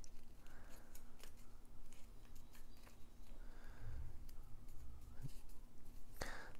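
Paper is creased and folded for an origami mouse during an inside reverse fold. Soft, close crinkling and rustling rise and fall in short bursts, ending with a sharper crisp crease.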